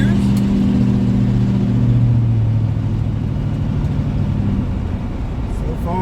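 A 1971 Chevrolet Chevelle, back on the road after more than 30 years, drives around a yard, its engine droning loud and close with a steady low rumble that rises and drops in pitch as it shifts gears, with muffled voices underneath.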